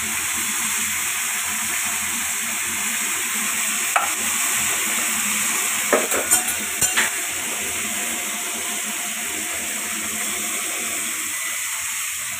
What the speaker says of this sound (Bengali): এটাকে আমি একটু ভেজে নেই। ভাজতে থাকি।